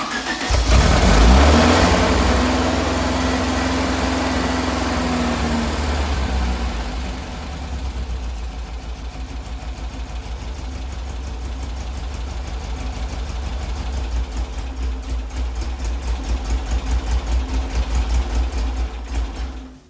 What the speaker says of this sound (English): So now you're gonna see that with more gas, it's gonna accelerate.